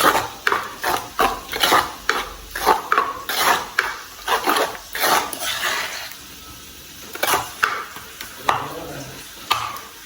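Amaranth greens curry stirred in a metal cooking pan, a utensil scraping and clanking in quick repeated strokes with a soft sizzle underneath, close and fairly loud.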